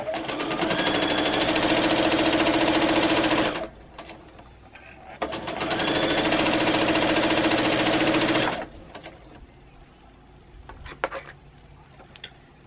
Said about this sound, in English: So once I sew my seam